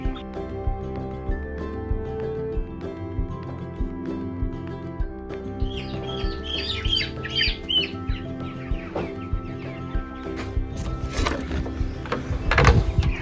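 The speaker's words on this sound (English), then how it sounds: "Hi, chickens." Young chickens cluck and chirp in a farm coop, a busy layered flock sound close by, with wooden knocks and thumps scattered throughout.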